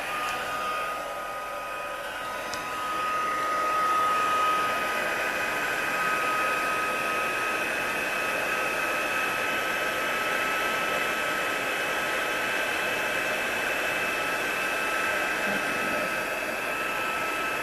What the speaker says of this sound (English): I'm just going to grab my heat tool and we're just going to